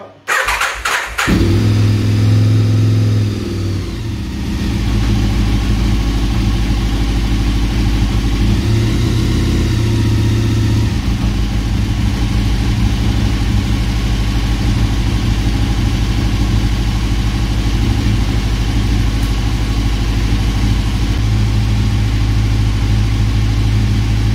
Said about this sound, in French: L'injection se met en route, tout va bien. Je suis en neutre. Starter.